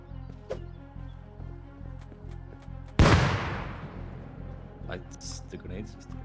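A single loud grenade blast in the survival game Rust, sudden and booming with a long decaying rumble, set against steady background game noise and a talking voice.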